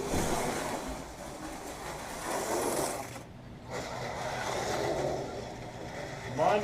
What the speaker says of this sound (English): Mondo Grip car turns a 576 on the track.